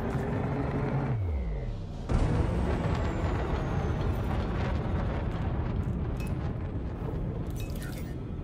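A frame shift drive charges up in the space game Elite: Dangerous: a dense, steady roar with a rising whine and descending tones early, swelling with a burst near the two-second mark and sustaining loudly throughout.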